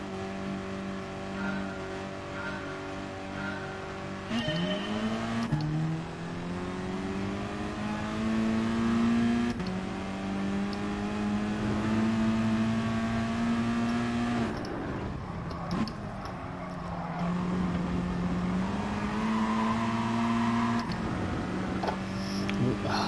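Game car engine in Gran Turismo revving hard from a standing start in first gear, pitch climbing steeply then dropping at each shift and rising again, loud and continuous throughout.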